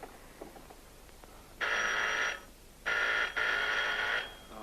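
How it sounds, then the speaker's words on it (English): An old-fashioned telephone bell rings in three bursts, one short and two longer, fairly loud and alone in a quiet room, from a 1920 silent-era drama. "A fine time for a phone call."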